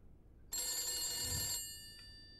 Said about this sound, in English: I want to see how long we go before that phone ringing is too irritating.